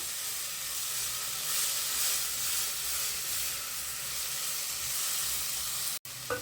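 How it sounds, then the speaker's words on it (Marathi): Chopped onion and tomato sautéing in a pan over a medium gas flame, a steady close sizzle and hiss that runs unbroken, then a brief drop and clatter at the end. "आता कांदा आणि टोमॅटो ह्याला छान आपण परतून घेऊया आणि सॉफ्ट करून घेऊया"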